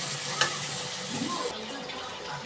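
A spice masala of salt, turmeric, cumin and Kashmiri chili powder sautéing in a pan, a continuous close sizzle with light stirring scrapes and a short clink near the start.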